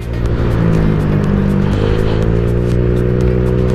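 A motorcycle with an aftermarket exhaust, a copy CMS pipe, held at high RPM: a loud, steady, close engine scream with a rising harmonic whine. It sustains without a break and no one speaks over it.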